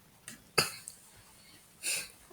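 A narrator voices a wolf sneezing in a told story, with a few sharp, breathy bursts spaced apart and close to the microphone against near silence.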